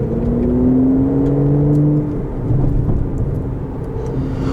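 The engine of a 2020 Aston Martin DBS Superleggera roars and climbs in pitch as the car accelerates hard at full throttle, then shifts and keeps pulling with a steady loud drone.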